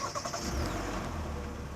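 A 2019 Hyundai Sonata 2.0 gasoline engine starts remotely with the key fob while locked, a brief crank and catch settling into a steady near idle hum.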